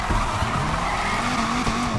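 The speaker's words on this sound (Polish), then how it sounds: "Nie było mowy w ogóle o tym, żeby zrobić taki płynny drifting jak teraz." Car tyres squeal in a continuous, loud skid while drifting in the racing video game NFS Unbound, backed by a steady engine roar.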